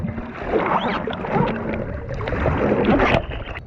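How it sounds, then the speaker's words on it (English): A hydrofoil boat riding over water, with a continuous rushing, splashing wash and some wind buffeting on the microphone, loud and close throughout with no talking. "Trying out on the new hydrofoils."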